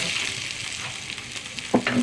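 A mashed pumpkin bori mixture for cabbage ghonto goes into a hot pot with a sizzling hiss and a few stirring scrapes, close and fairly loud.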